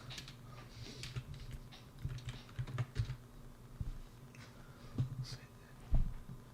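Soft, quick keystrokes on a computer keyboard as a game command is typed, faint and close, in short uneven bursts.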